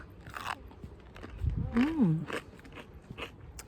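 Crispy millet cookies are bitten and crunched close to the microphone, with a few sharp crunches and chewing noises, and a short vocal sound partway through.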